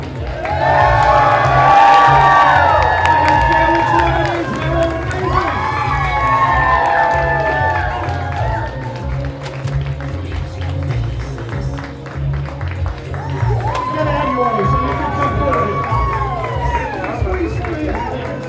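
A crowd cheers and whoops in bursts at a steampunk fashion show at Wild Wild West Con, with loud shouts and squeals rising and falling over a steady low background rumble.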